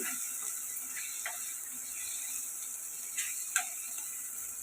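Vegetables for gongura eggplant curry frying in a pan, a steady high sizzle with a few faint ticks and clicks from stirring, close and unbroken, with no talking.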